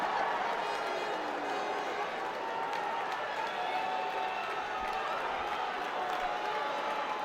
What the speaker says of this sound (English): Some are cheering because they know they're back in it.